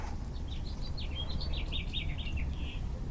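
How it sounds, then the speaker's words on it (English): Several small birds chirping and tweeting outdoors beside a picnic table, faint and a little distant, in quick repeated bursts over a low steady background hum. "Do you hear those birds?"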